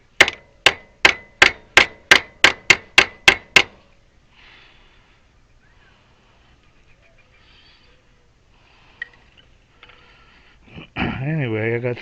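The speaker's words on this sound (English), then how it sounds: "that's why God invented hammers" A hammer strikes about nine even, sharp taps in quick succession, driving a part into place on a DIY wind generator; a short silence follows, then a few faint clicks and a voice at the end.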